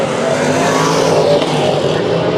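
IMCA Modified race cars battling for the lead on a dirt track, a loud, continuous roar of several engines close by with no break and no voices.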